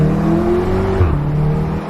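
A Mk7 VW Golf R with a Milltek non-resonated exhaust drones loudly and steadily under throttle, its deep exhaust tone holding through the whole stretch.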